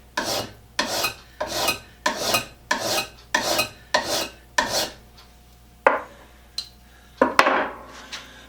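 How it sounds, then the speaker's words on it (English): Draw filing along the edge of a steel scraper blade cut from banding, for a Stanley #82 scraper: about eight steady rasping strokes in even rhythm, close and loud, then a few slower, separate strokes. "what draw filing does, it allows me to get a really nice square edge on this piece of"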